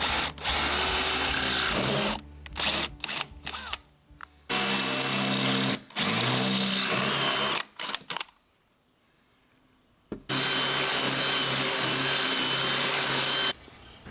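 Loud bursts of a power drill whirring, starting and stopping several times with short pauses and one longer silent gap, drilling with lubricant while building an electric farm fence tool.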